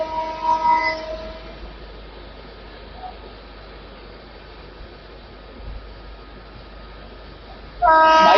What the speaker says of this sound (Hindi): भाई स्पीड काफ़ी स्लो हो गई है, ऐसा लग रहा है यहाँ पर पोज ले सकती है ट्रेन।